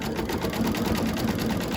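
A sewing machine stitches around a quilted snowman appliqué through multiple fabric layers, giving a steady, close, rapid mechanical whir with no talking.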